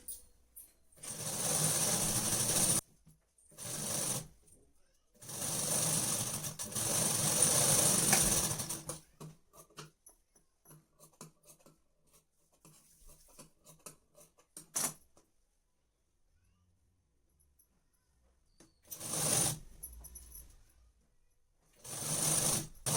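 Electric sewing machine running stitches through net fabric for a party-wear dress, two long whirring runs early and another near the end, separated by quieter handling clicks and pauses.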